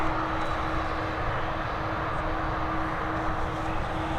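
Airliners sit and move along a busy taxiway at Dublin Airport, giving off a steady engine drone with a constant tonal hum, moderately close and unbroken.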